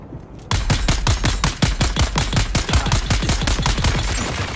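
Rapid automatic gunfire from the Dune Awakening video game, a steady burst of closely spaced loud shots starting after a brief pause and continuing throughout, with no talking.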